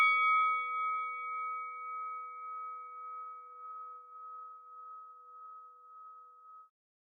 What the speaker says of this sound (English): Man, that's a long bell.